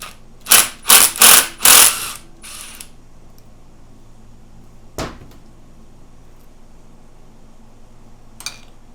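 A 10 mm bolt is loosened and removed by hand tool from a Honda CB550/CB500-series motorcycle engine during a bottom-end rebuild: three loud ratcheting metallic bursts close together, then quiet with a single sharp knock and a faint later clink.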